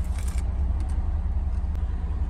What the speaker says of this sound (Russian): Сейчас у нас двигатель запущен, работает идеально тихо, ровно, без посторонних шумов.